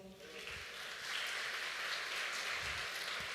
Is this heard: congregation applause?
yes